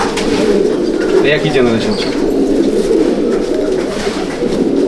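Pigeons of an Andhra breeder's champion bloodline coo in a loft, their low, repeated throaty calls running continuously under a voice speaking briefly.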